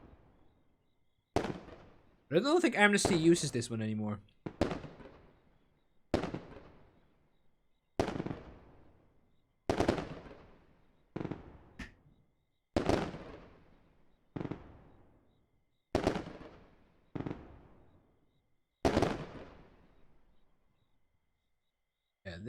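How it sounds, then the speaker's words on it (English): Fireworks bursting one after another in the game Fireworks Mania, about a dozen sharp loud bangs with decaying tails at irregular intervals, and a crackling spray early on; someone talks briefly between blasts. "This must be one of my favorite explosion sounds in the entire mod store right now."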